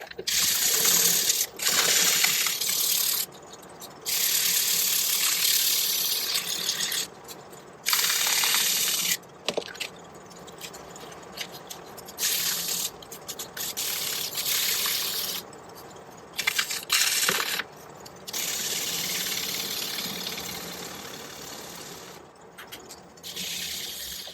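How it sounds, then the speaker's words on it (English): Rough, hissing sanding strokes on a passive amplifier sound horn come in repeated bursts with short pauses between them, close and fairly loud. "Bit of sanding."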